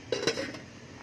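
A lid set onto a cooking pot of boiled mung beans gives a quick close metal clank with a brief ringing tone, then fades within a second.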